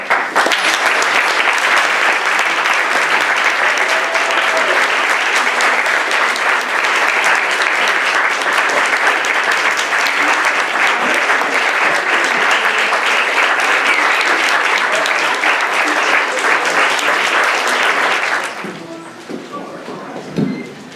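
Sustained, loud audience applause for honorees at an arts gala program, a thick wall of clapping that suddenly drops away near the end, leaving quieter room sound.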